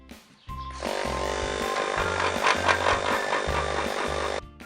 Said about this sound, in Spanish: le aplicamos pulimento y le damos con la pulidora